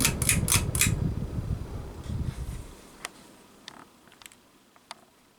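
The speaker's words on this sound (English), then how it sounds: "It does have a slight bearing sound to it as well, which is kind of known for S.M.C fans to have that." S.M.C. Park Avenue II 42-inch ceiling fan, model DC42, winding down after being switched off, its whirring hum fading over a few seconds and leaving faint ticks and light bearing noise.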